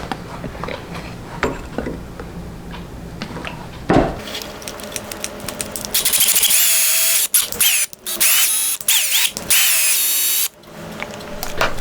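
A power tool drives a tap, cutting 8-32 threads into a metal part ground down on a belt sander. After a quieter stretch of shop noise, loud, high-pitched whirring bursts start and stop several times with short pauses.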